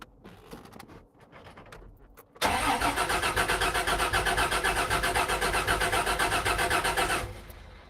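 A long-unused car engine cranks briefly after some faint clicks, then catches and runs loud and steady at a fast idle for several seconds before cutting off.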